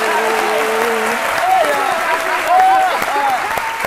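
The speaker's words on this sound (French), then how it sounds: "Quand je vois Caroline applaudir comme ça" Applause from a television studio audience, a steady wash of clapping that runs the whole time, with voices and whoops rising over it.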